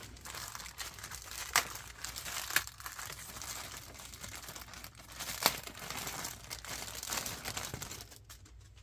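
Crinkling plastic parts bags from a Tamiya Hornet Evo kit being handled close up, a continuous quiet rustle with several sharper crackles as the bags are squeezed and turned, no talking.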